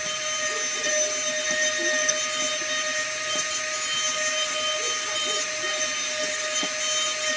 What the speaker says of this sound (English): You can do this with a Dremel.